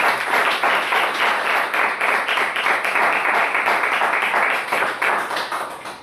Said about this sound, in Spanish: Pido palmas para el Señor porque su palabra es perfecta